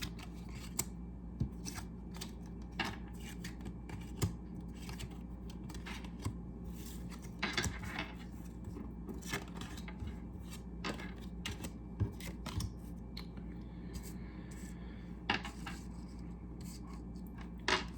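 Tarot cards are handled and flipped over during a collective reading, giving a string of soft, close papery flicks, slides and taps at an irregular pace over quiet background, with no talking.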